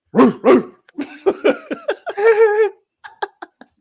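A person imitates a dog with two loud barks, followed by a string of playful yelps, whines and laughter-like sounds, close up.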